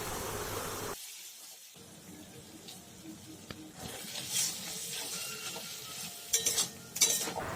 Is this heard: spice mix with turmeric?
yes